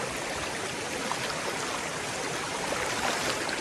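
A river stream running over stones on the way to Zarwani waterfall: a steady, dense rush of water, close and even throughout, with no voices.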